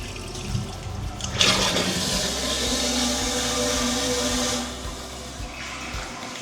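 A toilet flushing up close, a loud rushing surge of water that swells quickly, holds for a few seconds, then drains away into a quieter refill trickle.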